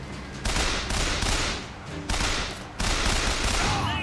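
Gunfire in the Bioshock Infinite shooter, dense volleys of rapid shots in three loud surges with brief dips between, close and continuous.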